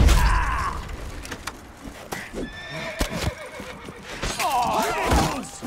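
In The Witcher 3: Blood and Wine, a horse whinnies near the end while hooves clop and mechanical creaks sound through a dense game soundscape.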